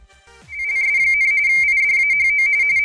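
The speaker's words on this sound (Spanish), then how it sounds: "RTTI es Radio Teletipo." Radio teletype (RTTY) ham radio transmission: a loud, steady electronic warble holding a high tone, with a faint rhythmic pulsing beneath it, starting abruptly after a brief quieter lead-in and continuing alone.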